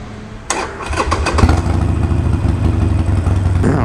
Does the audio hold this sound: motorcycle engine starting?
yes